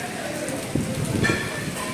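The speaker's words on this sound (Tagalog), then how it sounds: "lumalakas ang ulan" Heavy morning rain with strong wind and lightning, heard from under a roof: a continuous, broadband rushing patter, fairly close and steady, with a few louder splashes or gusts mixed in.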